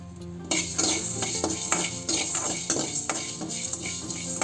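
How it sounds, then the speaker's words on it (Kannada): Coriander seeds being dry roasted in a pan for a coastal-style fish curry masala, with steady scraping and clinking of a spoon against the pan and short rhythmic stirring taps, close and fairly loud, no talking. "ಈಗ 2 ಚಮಚದಷ್ಟು ಕೊತ್ತಂಬರಿ ಕಾಳನ್ನ ಹಾಕ್ಕೊಂಡು ಹುರಿತಾ ಇದ್ದೀನಿ"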